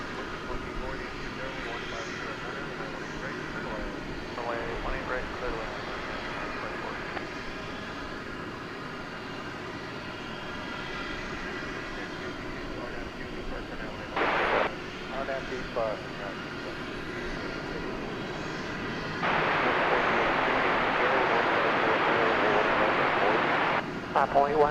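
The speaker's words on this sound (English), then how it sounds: "So it'll be flight 192 to Istanbul. Now rolling down" An airliner, flight 192 to Istanbul, rolls down runway 17 right at DFW Airport at night, its engine roar building gradually under ongoing talk and radio chatter, with a louder surge near the end.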